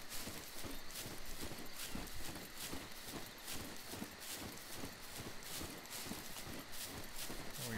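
Fast rhythmic hoofbeats of a pig running in the SCUM survival video game, steady clip-clop footfalls repeating throughout at a moderate distance with no talk.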